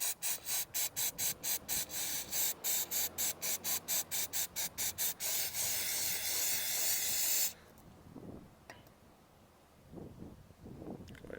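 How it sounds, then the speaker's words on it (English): Rapid pulsed hissing bursts of an aerosol cleaner spray on a Mercedes-Benz S550 mass air flow sensor, followed by a long steady close hiss that stops abruptly, then quiet handling noises. "I'm going to go and spray that down a bit."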